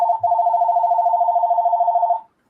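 A telephone rings once with a warbling electronic tone, a single continuous ring lasting about two seconds that then stops abruptly, clear and close with no talking.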